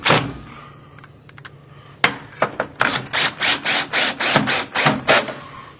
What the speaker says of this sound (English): take the screws that come with it into the pre-drilled holes